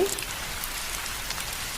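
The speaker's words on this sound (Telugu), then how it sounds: "ఇంతలోనే వర్షం స్టార్ట్ అయింది" Steady rain falls outside a home, a dense, even hiss of drops on surfaces that continues unbroken with no voices.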